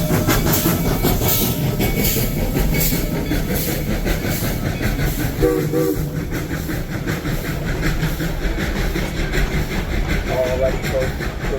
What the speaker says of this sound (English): when the other train passes us, they'll be passing us on what is now the left-hand side of the train